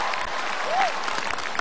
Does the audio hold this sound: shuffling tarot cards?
no